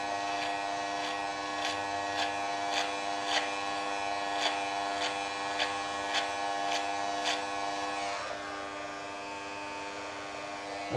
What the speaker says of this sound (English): I start picking up the clipper